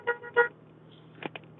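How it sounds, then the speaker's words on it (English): Car horn from a vehicle passing on a highway near Mirror, Alberta: two short honks close together, then a fainter brief toot a moment later over quiet road noise. "We had a honker going by."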